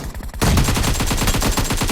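Rapid automatic gunfire in PUBG Mobile team deathmatch, a loud sustained burst of evenly spaced shots that starts sharply after a brief pause and continues to the end, close and dense with no voices.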